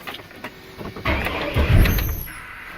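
A 2002 GMC Envoy with a newly installed starter cranks and catches, starting with a few clicks and a faint whir, then a louder burst of engine turnover that settles into a running rumble, all close by.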